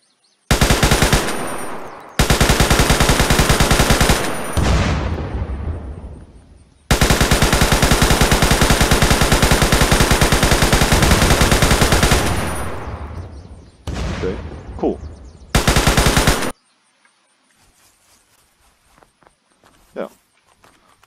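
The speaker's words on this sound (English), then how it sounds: "there's a machine gun up top." A tank-mounted machine gun in the game Unturned fires in long, loud, continuous bursts separated by short gaps, followed by a few quieter scattered shots and faint footsteps near the end.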